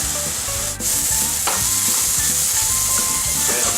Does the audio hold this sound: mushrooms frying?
yes